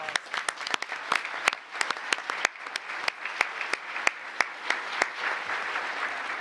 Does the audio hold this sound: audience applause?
yes